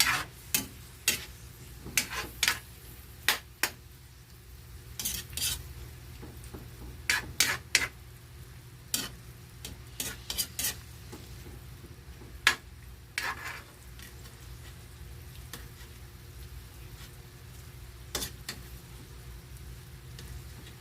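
Cooking food is stirred in a pan in a Philippine home kitchen, with irregular sharp scrapes and clinks of utensil on metal recurring throughout over a low steady sizzle, no talking.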